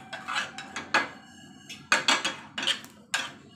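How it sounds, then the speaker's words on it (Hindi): Spices pounded in a mortar and pestle for a prawn masala: a steady series of sharp, close clinks and thuds, roughly a dozen irregular strikes with brief metallic ringing between them, and no talking. "और ये हामी दस्ते में हमको कूटना है, इसको पीस मतलब बारीक कर लेना है"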